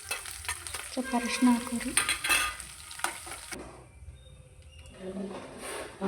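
Curry leaves and crushed garlic fry in a pan for puliyogare, giving a close sizzle with stirring clatter, with a voice speaking over it before the frying quiets down.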